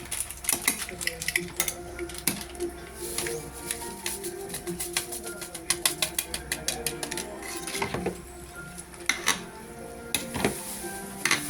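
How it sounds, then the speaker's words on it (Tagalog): Salmon head sinigang being stirred in a pot, with rapid irregular clatters and scrapes of a utensil against the pot over a sizzling, bubbling background, fairly close and steady throughout. "Sige, haluin mo"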